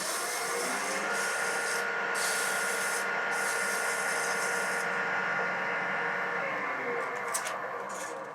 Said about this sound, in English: I'm just going to sand this a little bit